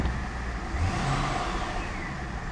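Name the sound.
Pontiac G8 GT car running in drive, faulty transmission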